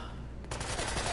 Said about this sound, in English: What in the hell are they shooting us with?